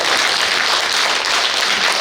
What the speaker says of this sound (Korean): 박수 치면 좋아요.